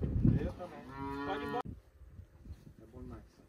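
Cows on a Brazilian cattle farm during ultrasound checks: one close, drawn-out moo, then fainter lowing and outdoor murmurs, with a voice briefly audible nearby.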